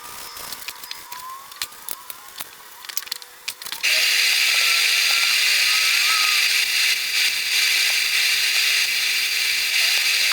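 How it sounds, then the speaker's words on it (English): Sandpaper of 400 grit rubbing across a lacquered live-edge wood bar top, starting with scattered scrapes and knocks, then settling into a loud, steady, close hiss of continuous sanding with no talking. "Between each coat, I'll sand with 400 grit sandpaper."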